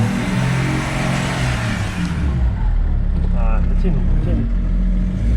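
A turbocharged 300hp M57 diesel engine fitted in an FJ75 Troopcarrier revs up loudly and steadily, with a rumbling low drone throughout and people talking over it near the start.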